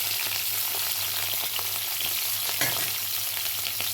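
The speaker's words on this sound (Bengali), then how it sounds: "ফুলকপিটা ভাজা হবে।" Cauliflower frying in a pan, a steady dense sizzle and crackle with a few soft stirring knocks, close and continuous throughout.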